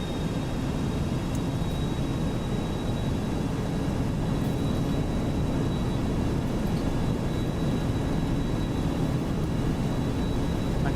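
Boeing 737-200 twin jet engines at takeoff power in a flight simulator, a steady, loud broadband roar with a faint high whine running throughout.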